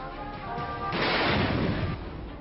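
A single heavy howitzer blast during a 21-gun salute in Delhi swells up and rolls away, a deep booming roar over a steady rumbling background.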